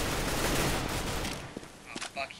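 Counter-Strike: Global Offensive gunfire rattles in a dense, loud burst of rapid shots that trails off after a second and a half, followed by brief voices.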